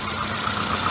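A Volvo 240 wagon with a five-speed runs steadily for a moment, a continuous low engine rumble with faint knocking texture, close by and alone, no clear rise in pitch.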